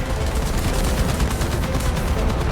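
Heavy gunfire from a T95 tank battle in War Thunder rolls on continuously, a dense, loud barrage of booming shots and rumbling blasts with no pause.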